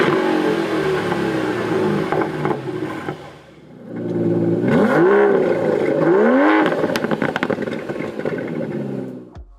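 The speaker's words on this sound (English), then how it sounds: "Comment down below which exhaust sound you preferred." A 2023 Aston Martin DB11's V8 exhaust revs hard twice in quick succession, rising and falling, over a steady loud engine rumble with no talking.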